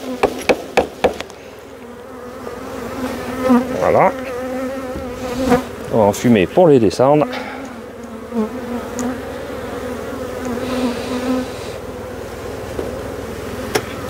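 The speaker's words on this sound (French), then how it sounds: "Donc là je commence à enlever les abeilles." A dense, steady buzz of many honeybees swarming close around an open hive as a beekeeper removes bees while creating swarms on the Mediterranean coast, with someone speaking briefly and a few knocks and clicks.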